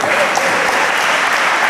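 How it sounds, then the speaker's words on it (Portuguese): A congregation claps during a church service, a dense burst of applause filling the space for a couple of seconds. "Quem pode aplaudir o nome do Senhor?"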